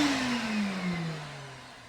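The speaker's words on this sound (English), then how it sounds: "All right, let's shut this vacuum." A household vacuum cleaner rigged as the exhaust fan for a cheap homemade model car paint booth is switched off, its steady whine sliding lower and quieter as the motor spins down over about two seconds.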